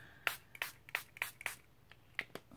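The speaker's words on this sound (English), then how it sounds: "So these paper towels are, I'm just spraying them." A spray bottle mists water mixed with gel food colouring onto paper towels in quick short spritzes, about eight crisp bursts in an uneven rhythm, close and fairly quiet.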